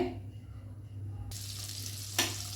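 Butter melting in a hot pan for chilli garlic rice, a soft sizzle rising after a quiet start, with a brief sharp clatter partway through.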